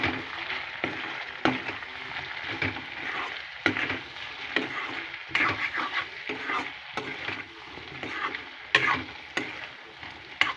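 Garlic and dried red chilies frying in hot oil in a pan, stirred with a utensil: a steady sizzle broken by repeated sharp scrapes and taps against the pan, close and alone with no talk.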